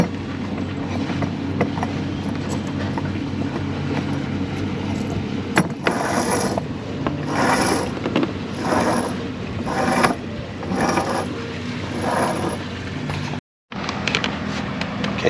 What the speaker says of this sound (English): So we'll go back through the small pulley here.